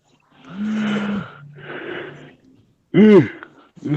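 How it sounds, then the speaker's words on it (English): A person yawns with a drawn-out breathy, strained vocal sound lasting about a second, followed by a quieter exhale, then a short voiced rising-and-falling groan near the end, all close and fairly loud with no speech. "sorry, I'm yawning and shit."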